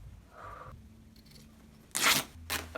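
Scissors cutting through cloth from an old fitted bed sheet, with a couple of close, crisp snips and a short tearing swish after a quiet stretch, and no voices.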